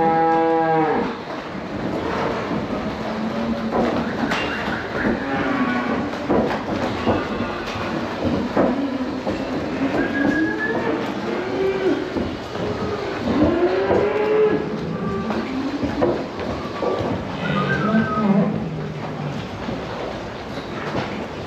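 Cattle on a farm moo repeatedly in long, drawn-out calls that overlap from several animals, some close and loud, others further back, over steady barn background noise throughout.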